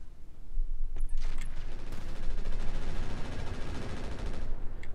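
Heavy weapons fire from double Gauss rifles in the mech combat game Roguetech, a dense, continuous barrage of booming shots and impacts rolling through the whole stretch at loud, steady volume with no talking.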